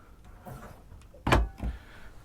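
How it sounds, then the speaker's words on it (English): Small drawer fitted underneath a cabinet aboard a 2015 Princess 68 yacht, giving a soft slide followed by two sharp knocks as it closes, heard alone in a quiet cabin. "They've put a little drawer in underneath."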